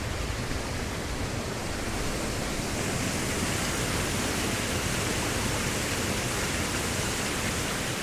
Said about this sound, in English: All the water's coming out the leads at the back, and it's coming underneath the water wheel.